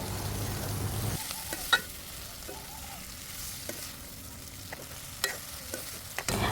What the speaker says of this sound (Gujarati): હવે આપણે જે તળેલા ગુવાર બટેકા હતા ને એ ઉમેરી દઈશું